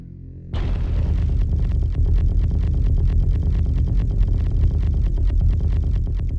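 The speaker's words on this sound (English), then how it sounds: "Now let's try that in a massive group of 12, but chain firing." Rapid chain-fired explosions from a group of 12 weapons in a video game, a dense, loud run of overlapping booms and pops that starts abruptly and holds steady to the end.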